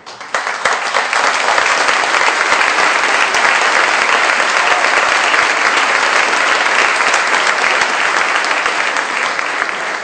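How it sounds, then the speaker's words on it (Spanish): Sustained applause from a lecture audience at a 2014 law faculty public-information talk, honoring Ezequiel Santagana; dense, steady clapping, loud and continuous throughout with no talk over it. "pido que Ezequiel Santagana se levante y reciba este aplauso"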